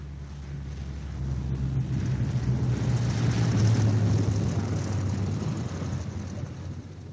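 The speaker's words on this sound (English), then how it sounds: "coming in with his left inboard engine dead." A steady, droning engine rumble from a four-engine bomber swells gradually and holds loud, then eases slightly, like a propeller plane approaching overhead, landing with its left inboard engine dead.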